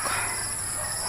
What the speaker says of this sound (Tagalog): maririnig nyo ngayon ay huni ng kuliglig